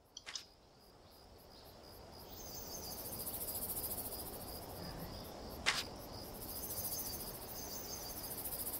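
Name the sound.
insects chirping in Monster Hunter Rise video game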